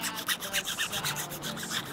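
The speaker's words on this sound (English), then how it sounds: "Now obviously I like using the hacksaw. Works really good, especially if it's frozen." A hacksaw is pushed back and forth through a frozen fish used as shark bait, a quick rhythmic rasping with about eight close strokes in two seconds.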